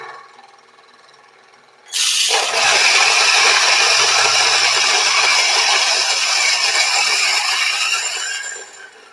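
Hario Pegasus hand coffee grinder crushing beans at a finer setting, a loud, steady gritty rasp that starts sharply after a quiet moment and runs continuously before easing off at the end.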